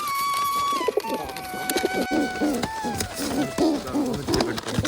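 Pigeons cooing close by in a village setting, soft repeated throaty coos layered over one another, with faint background noise and a thin tonal whine running underneath.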